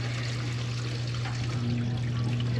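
A dishwasher drains water, producing a steady low mechanical hum with a continuous rushing, trickling flow, close and moderately loud.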